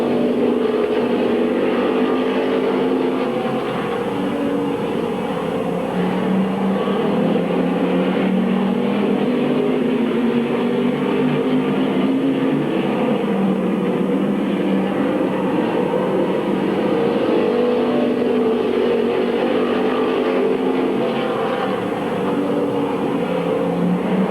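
Race cars circle Midvale Speedway in a pack, a continuous loud wash of engine roar with rising and falling pitch as cars pass, no voices.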